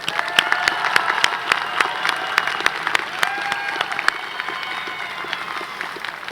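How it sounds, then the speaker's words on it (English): A large audience at a 2016 CSUN commencement ceremony, for the College of Health & Human Development, applauds steadily with dense clapping throughout, and a faint cheer or two rises within the crowd noise. "Please give a round of applause for Naz."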